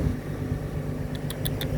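A CAT 323 GC excavator engine runs at a low steady drone on a hot, dusty worksite, faint and continuous, with a few brief high clicks near the end.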